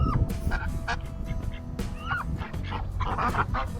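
A flock of chickens and ducks is herded into a coop on a small homestead. Brief overlapping clucks, squawks and honking quacks sound close by, with faint background noise.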